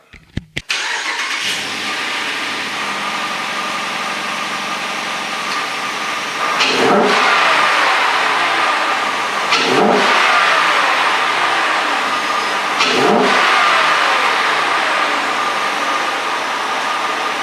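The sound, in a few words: Dodge Durango 5.7 Hemi engine starting and revving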